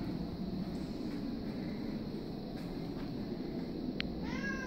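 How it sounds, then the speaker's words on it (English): A shelter cat gives a brief meow or two over a steady hum of room noise, faint against the background. "It's a beautiful kitty."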